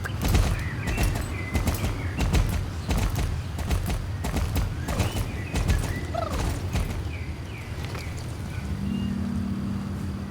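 Horse hooves clip-clop steadily in the video game Star Stable, a brisk rhythmic series of hoofbeats with faint bird chirps and no talking.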